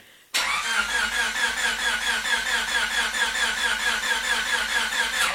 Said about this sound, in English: It was the engine.